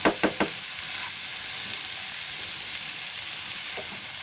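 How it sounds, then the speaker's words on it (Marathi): Potato and pea samosa filling gets tempered in a hot pan, a few quick spoon knocks at the start and then a continuous loud sizzle and crackle running alone. "अशी आपण पटकन फोडणी द्यायची"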